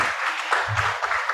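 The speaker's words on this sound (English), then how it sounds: "A big round of applause for them." Audience applause at an academic conference plenary awards session, a brief steady patter of clapping from a moderate distance, with faint voices underneath.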